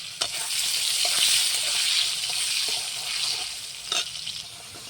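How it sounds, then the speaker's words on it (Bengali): Potatoes fry in hot oil with a loud, steady crackling sizzle close by, and a few sharp stirring knocks stand out against it. "গরম হয়ে গেছে তেল আলুটা সুন্দর করে ভেজে নেব"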